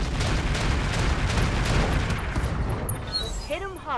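Mech weapons fire standard ammunition in the battle game Roguetech, a dense loud barrage of overlapping booms and gunfire rolling continuously, ending in sweeping synthetic tones.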